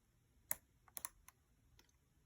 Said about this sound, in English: that sound you're hearing is me slipping off the wafer